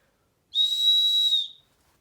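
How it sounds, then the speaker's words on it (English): A single shrill traffic police whistle blast, loud and close, holding steady for about a second before cutting off. "Then sang the traffic cop's loud whistle"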